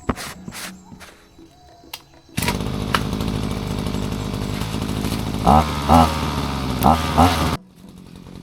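A motorized sprayer's small engine roars to life and runs steadily at high revs, loud and close, with a few brief rises in pitch near the end before it cuts off, during weed spraying on rough terrain.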